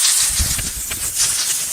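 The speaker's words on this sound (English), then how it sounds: "With the compressor, we'll pressurize the intake manifold gently." Compressed air hisses steadily into an engine intake manifold under gentle pressure from a compressor, a close, continuous breathy hiss with faint rustling and soft thumps.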